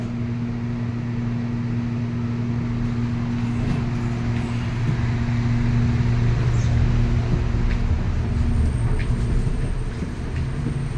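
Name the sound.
train departing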